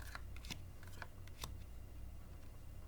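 Playing cards drawn one by one from a regular deck laid face down, making a few quick, soft snapping and sliding flicks close by with no talking.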